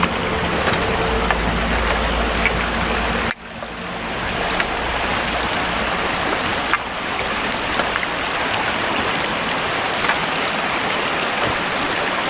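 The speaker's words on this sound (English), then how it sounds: "There's a beautiful waterfall." Water pours down Secret Falls in the Smoky Mountains of Tennessee, a continuous broadband rush that dips briefly near the start and then carries on steadily, with no one speaking.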